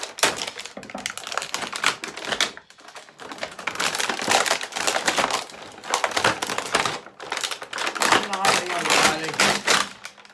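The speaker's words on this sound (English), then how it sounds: "cutting through the plastic now" Plastic packaging around a 12-inch Mortal Kombat 11 Spawn collectible figure being cut through, loud close crackling, snapping and crunching bursts in uneven clusters, with some speech mixed in.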